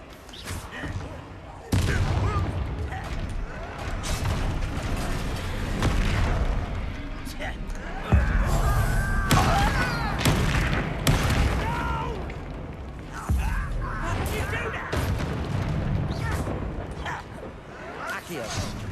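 Repeated Bombarda spell blasts in Hogwarts Legacy during a troll fight, dense booming bursts one after another with loud impacts, mixed with other spell effects and someone talking throughout.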